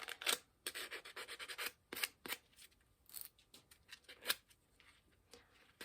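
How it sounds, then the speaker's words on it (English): Sandpaper rubs the edges of a 3D-printed part in quick, close, uneven scratchy strokes, sometimes in short rapid runs and sometimes alone, with no one speaking. "I'm going to hit it with some sandpaper to smooth off the edges"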